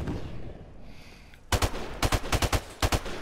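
Rapid video game gunfire: a burst of about ten sharp, loud shots in quick clusters following a quiet stretch, with no talking.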